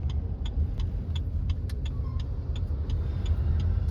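Cars sit and creep in a traffic jam at Khaprail More in Siliguri, with a steady low road rumble, idling engines and scattered small clicks and rattles close by.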